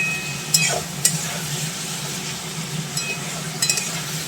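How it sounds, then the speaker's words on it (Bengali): Squash and potato cooking down in oil in a pan until the oil separates, a steady low sizzle with a few sharp spoon scrapes and clinks against the pan, close by with no talking. "দেখো অনেকটাই কষানো হয়ে এসেছে প্রায় তেল ছেড়ে এসেছে আর সামান্য একটু কষাতে হবে"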